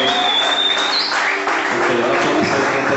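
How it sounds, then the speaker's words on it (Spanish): A church congregation applauds during a wedding commitment service, a dense, continuous wash of clapping with voices and shouts mixed in. "un aplauso al Señor."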